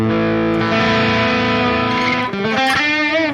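A distorted electric guitar, a Les Paul-style sound EQed to mimic single-coil pickups, plays sustained chords with a bright, thin, twangy tone, shifting to a new chord near the end, loud and up close with no voices.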